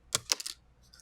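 A small Nintendo-style keyboard keycap drops onto a hard surface, giving two or three quick, light clicking taps up close, followed by a faint rattle as it settles.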